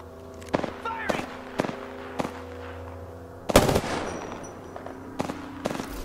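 Gunfire from the Apex Legends video game sounds as a few sharp single shots, then a louder burst near the middle, followed by more scattered shots over a low game background.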